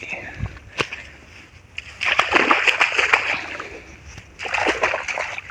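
Pooled rainwater sloshes and splatters in two long bursts of splashing after a few sharp isolated splashes, fairly close and loud.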